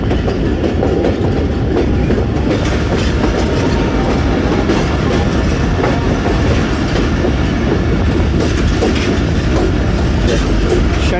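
The Rehman Baba Express rolls into the Lala Musa junction yard with a loud, steady rumble of wheels and rhythmic clickety-clack over points, continuous and close throughout, with no talking.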